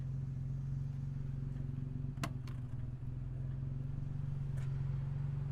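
A 1959 Jaguar XK150S Roadster idles quietly in the background, a smooth, even low hum broken by a few faint clicks and knocks nearby.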